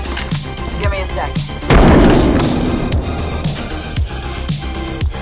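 A frag grenade in the video game Apex Legends goes off with one loud, booming blast that fades slowly, set among scattered in-game footsteps and clatter.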